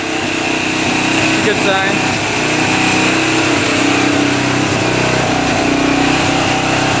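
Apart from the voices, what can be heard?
600cc street legal dirt bike engine idling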